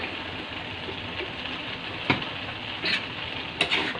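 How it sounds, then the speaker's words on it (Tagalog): Bean sprouts with soy sauce sizzling in a pan while being stirred, a steady frying hiss broken by a few scraping strokes of the utensil, close and fairly loud, no voices. "Saka natin haluin."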